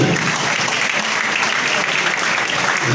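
Dense, loud audience applause at a district police award ceremony, an even wash of many hands clapping together without a break.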